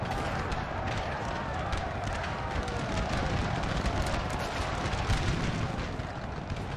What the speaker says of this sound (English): We have artillery on both sides shooting.